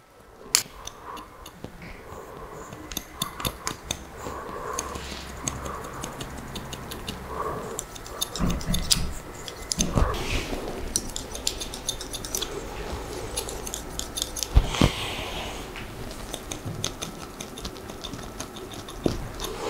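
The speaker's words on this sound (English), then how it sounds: "Just feed the hair through the comb and just cut into this blend." Scissors cut hair fed through a comb during a haircut, blending the top. The snipping is rapid and close, sounding dense and continuous over steady room noise, with no talk.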